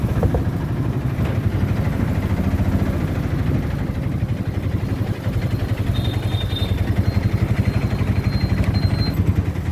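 An auto rickshaw's small engine chugs steadily at close range in a fast, even putter while on the move, with a faint whine partway through.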